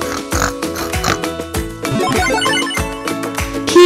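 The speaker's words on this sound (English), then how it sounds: "P is for pig." A cartoonish pig oinks in short repeated grunts over bouncy, busy children's music in a preschool alphabet lesson.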